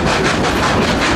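Chama narrow-gauge train rolling on rails, a loud, dense, continuous rumble with faint rhythmic pulses, heard up close and without talk over it.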